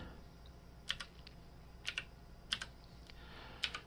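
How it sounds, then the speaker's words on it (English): Keys tapped on a computer keyboard while entering a search in the Windows start menu, a few quiet separate clusters of keystrokes over a faint steady hiss, no voices. "you want to type in"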